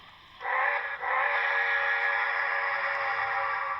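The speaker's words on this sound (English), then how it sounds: "This is the whistle." A six-chime steam whistle on an HO scale NYC 5344 Commodore Vanderbilt model locomotive sounds one steady, sustained chord-like blast with a brief dip early on, fairly faint and alone over quiet layout background.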